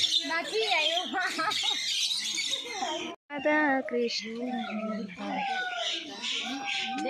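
White birds at a zoo call with chirps and squawks, heard among chattering visitors whose talk runs over much of the sound.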